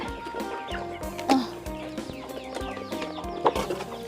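Farm chickens cluck around feeding time: repeated short clucks and some louder calls from several birds close by, with a couple of sharp peaks, and no voices.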